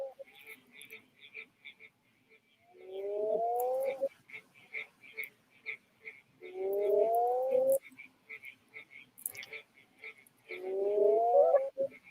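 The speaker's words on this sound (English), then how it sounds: "that's the sound of a breeding aggregation of these burrowing frogs" Burrowing frogs in a breeding aggregation give three drawn-out, bleating calls at steady intervals, quiet and somewhat distant over a background of faint chirping insects or birds.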